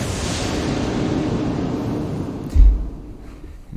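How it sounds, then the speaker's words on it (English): Thunderous lightning strike hitting the boat in the Zelda: Link's Awakening cutscene: a sudden heavy boom bursts out of a steady roar of storm and sea, then fades back into the rumbling wash. "And the boat gets struck by lightning."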